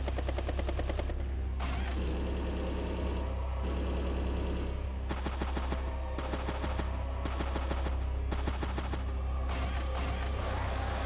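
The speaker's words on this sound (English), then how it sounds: "Put some machine gun round into it." Rapid bursts of machine gun fire from the Advance Wars: Days of Ruin strategy game, played as repeated staccato volleys over a steady low in-game hum and music bed. The sound is continuous and moderately loud.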